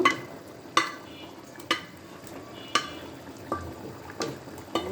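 Hilsa fish pieces frying in hot oil in a pan, a continuous sizzle with regular sharp clacks and scrapes of a utensil against the pan about once a second, close by with no talking.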